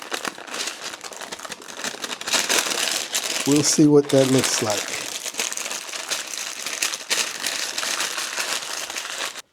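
Parchment paper crinkling and rustling close by while a steak lettuce wrap is folded, with a person talking over the handling.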